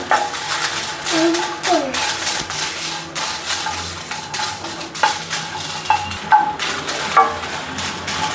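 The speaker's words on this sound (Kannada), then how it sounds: "ಈಗ ಮೆಣಸಿನ್ಕಾಯಿ ಎರಡು ನಿಮಿಷ ಚೆನ್ನಾಗಿ ಫ್ರೈ ಆಗಿದೆ" Chillies for a smoky chicken ghee roast fry in a pan with a soft sizzle, broken by repeated clinks and scrapes of a utensil stirring against the metal, while voices murmur faintly in the background.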